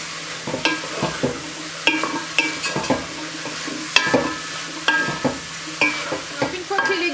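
Vegetables softening in a saucepan with browned beef residue, stirred with a utensil scraping the bottom: a steady sizzle under repeated scraping strokes and light clinks, close up, with no talking.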